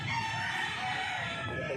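Chickens clucking and murmuring nearby, a busy overlapping flock sound, steady and fairly quiet throughout.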